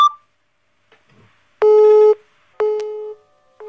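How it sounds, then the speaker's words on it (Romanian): A telephone busy signal beeps twice in long, steady electronic tones with short silences between, clear and alone on the line. "Acum mi-a dat ocupat."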